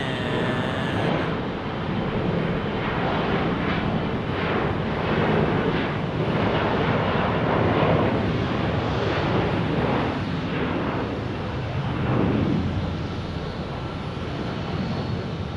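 Airliner jet engines roar at Phoenix Sky Harbor airport, a loud, continuous rumbling wash of sound that swells and fades slightly over its length, with no talk over it.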